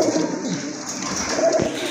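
Soft coos from female pigeons murmur through constant hiss and rustle, low and close, with no talking.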